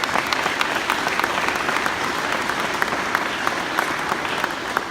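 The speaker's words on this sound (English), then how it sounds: "Give Gerald Tyler a round of applause at his organization" Audience at a community celebration in Aurora, Minnesota applauding for Gerald Tyler: sustained, even applause from a sizable crowd, dense and steady throughout with crisp individual claps standing out.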